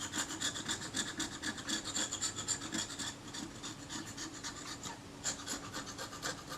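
Greasy, salty aluminium corrosion is rubbed off a Retina IIc camera in quick, rhythmic scraping strokes, close and fairly quiet, with a short pause partway through.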